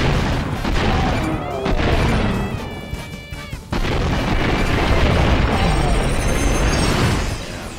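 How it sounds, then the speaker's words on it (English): Explosions and gunfire fill a PlayStation 2 shooter called 10,000 Bullets, a dense, loud run of booms, blasts and rapid shots with electronic tones and effects layered in, continuous for several seconds. "Lots of explosions."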